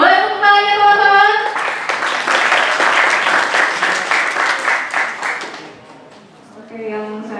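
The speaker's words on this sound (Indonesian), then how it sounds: "Boleh tepuk tangannya teman-teman?" Audience applause at a Buddhist youth anniversary celebration in Indonesia, a dense burst of many hands clapping between stretches of a speaker's voice over a PA, fading before the talk resumes.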